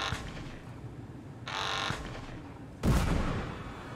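Gunfire in the game Papers, Please: a few muffled booming shots and bursts over a steady noisy background, the loudest blast near the end, with no talking.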